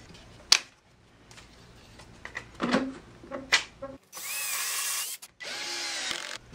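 A power drill runs in two sustained, loud bursts of whirring while T-track is drilled and screwed onto a wooden drill press table. Short knocks and clatter of handling come before it, close by, with no talking.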